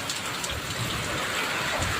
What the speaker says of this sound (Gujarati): હું ઘરે જઈશ ને તો પલરી જઈશ, એટલો વરસાદ પડે